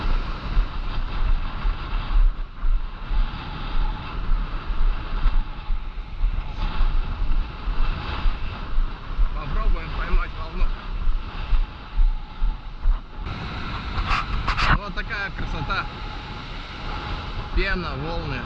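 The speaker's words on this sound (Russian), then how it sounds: "А сегодня вот такая вот жесткая погода. Сносит ветер. Я слышу его завывание." Strong wind buffets the microphone in a steady rumbling roar, with someone talking over it and a watery wash of foamy surf waves in the background, at a New York beach.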